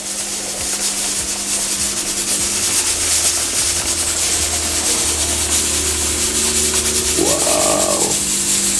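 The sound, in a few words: squeezing grated coconut to strain out coconut milk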